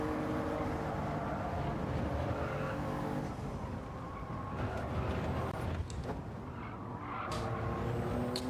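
A Toyota Yaris race car in a racing game drones steadily at moderate volume, the engine note rising and falling with throttle and shifts, joined by faint tire scrubs and passing cars.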